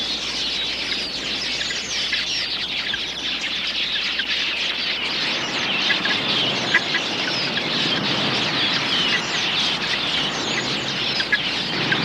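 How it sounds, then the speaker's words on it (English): A large flock of quelea birds raiding a waterhole in the African bush, a dense, continuous wash of high chirping and twittering filling the air, loud and unbroken, with no talk. "A flock of quilias makes a hit-and-run raid on the waterhole."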